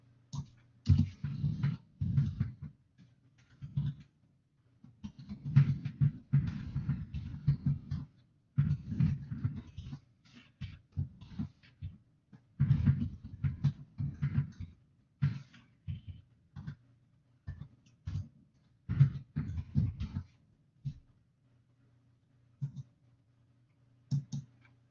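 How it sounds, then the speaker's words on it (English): Computer keyboard typing at a command line, bursts of quick clicky keystrokes alone in a quiet room with short pauses between runs, nearby and fairly soft. "Let me type from here."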